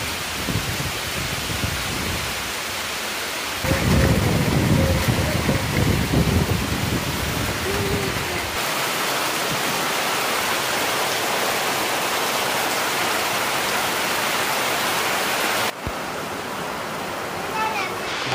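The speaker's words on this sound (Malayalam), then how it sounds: "മഴ രാവിലെ തുടങ്ങി, ഭയങ്കര കാറ്റും" Heavy rain driven by strong wind on a home property, a dense steady roar that swells louder for a few seconds in the middle and then settles, with a brief drop near the end; no voices present.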